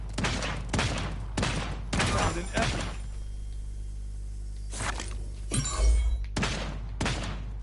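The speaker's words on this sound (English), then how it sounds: "Who's shooting?" Gunfire from weapons in the battle royale game Realm Royale comes as loud repeated bursts and volleys. A quiet gap falls in the middle before more shots, and the clip includes some talk.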